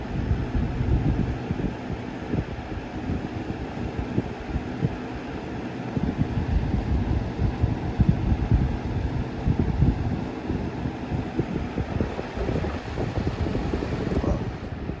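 A 1995 Windmere box fan, model 200/I with a brace blade, runs on medium speed, giving a steady, soft airy whoosh with a low, even rumble that holds constant throughout, with no voices.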